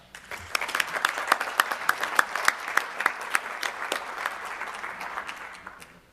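An audience at a Defense Innovation Board public meeting applauds to welcome Dr. Porter, with moderate, evenly paced clapping from a modest crowd that swells, holds for several seconds, then tapers off.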